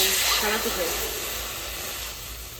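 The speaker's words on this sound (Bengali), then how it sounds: "জলটা এই যে টকবক করে ফুটছে" Salted water boils in a pot on a clay stove: a steady, close hiss and rumble of bubbling and steam continues throughout, fading slightly toward the end.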